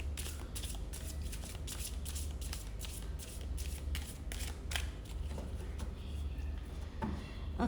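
A tarot card deck shuffled by hand at close range, a steady run of quick riffling flicks for several seconds that slow and thin out toward the end, with no voices.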